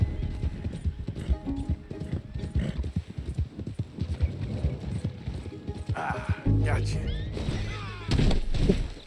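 Horse hooves clip-clop at a gallop in Red Dead Redemption 2, with a whinny and loud in-game thuds and bursts near the end, and voices talking over the action.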